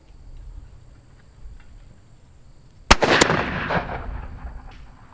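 Shotgun fires at clay targets on an outdoor quail course, a sharp blast near the three-second mark followed by a second quick report and a rolling echo, after a stretch of quiet ambience.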